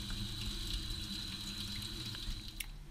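Tap water runs steadily from a faucet into a container for soap making, a faint continuous splashing hiss with no voices.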